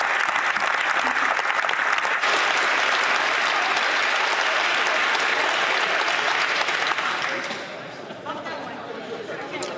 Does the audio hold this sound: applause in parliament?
yes